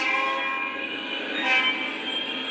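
A running train passes with a sustained horn blast over steady rumble and wheel noise, fairly loud and continuous throughout, swelling briefly near the middle, with no talk.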